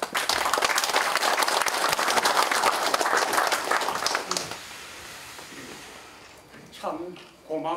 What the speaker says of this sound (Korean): 모두들 뜨거운 격려의 박수를 부탁드립니다